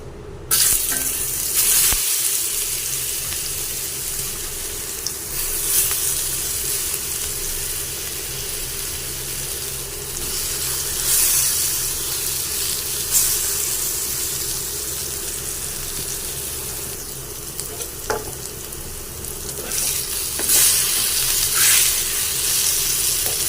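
Pieces of eggplant and potato fry in hot oil with a steady, close crackling sizzle that swells and fades slightly as the pieces are stirred, heard without talk.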